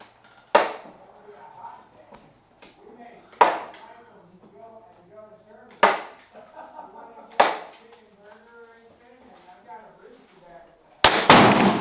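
Five sharp, loud reports from a CZ457 MTR rimfire rifle firing ELEY ammunition, spaced a few seconds apart outdoors, with a voice talking quietly between shots.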